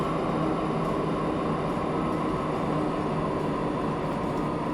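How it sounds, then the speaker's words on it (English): A train in the video game Transport Fever 2 rumbles along steadily, a continuous dense rolling drone of wheels and carriages with no pauses and no voices. "should we hop on the blue train instead?"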